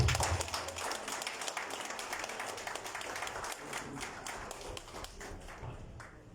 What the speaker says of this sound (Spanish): Le damos la bienvenida con un fuerte y caluroso voto de aplauso.